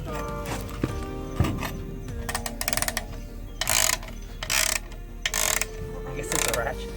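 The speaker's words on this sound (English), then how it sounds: "I guess it's a ratchet." Ratchet wrench working during a clutch swap on an RB20DET Nissan Laurel, bursts of fast clicking in short spaced runs over a busy garage background with low rumble.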